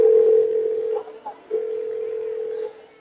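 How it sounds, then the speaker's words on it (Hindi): A phone being dialled to call a son, heard as a steady electronic dial tone held for about a second, a brief break with short blips, then the tone resuming for over a second before it fades, close and clear. "मैं अभी अपने बेटे को फोन करती हूँ।"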